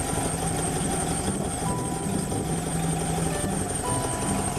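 A car engine idles steadily while warming up after a fresh oil change following a valve rocker adjustment, a constant near rumble with faint ticking and no talk.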